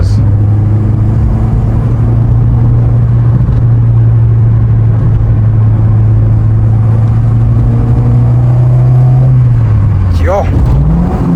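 A VW Citi Golf Mark 1 engine drones steadily under acceleration from inside the car, holding a loud, even pitch before the revs drop sharply near the end as it slips out of gear.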